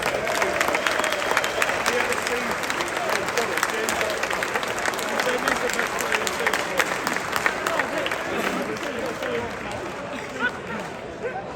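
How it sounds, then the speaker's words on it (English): A town hall audience in Middlesbrough applauds steadily, with dense, continuous clapping filling the hall at an even level from start to finish, some cheering or voices mixed in. "give him a big round of applause in there."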